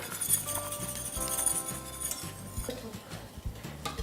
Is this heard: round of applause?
no